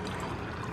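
Water poured from a container into a saucepan holding vinegar to make brine for salt mango pickle, a steady close splashing pour filling the short moment without any voices.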